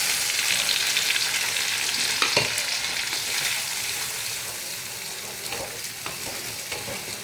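Cumin and a spice paste frying in oil for veg pulao, a loud close sizzle with occasional stirring clicks and scrapes, easing slightly over time, no talk.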